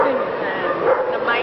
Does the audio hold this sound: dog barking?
yes